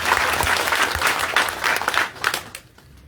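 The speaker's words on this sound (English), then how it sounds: "So clap for us." Loud crowd applause from delegates at a political leaders' meeting in Soroti city, Uganda, dense steady clapping for about two and a half seconds before it thins and fades out.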